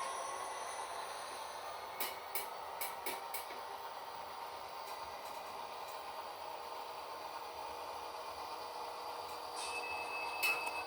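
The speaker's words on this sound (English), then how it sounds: "There you sound the 3-horn directional sound." An Athearn HO scale GP40-2 model locomotive with a Tsunami2 sound decoder runs with a steady diesel hum and faint rumble, broken by several short clicking taps, all soft and close.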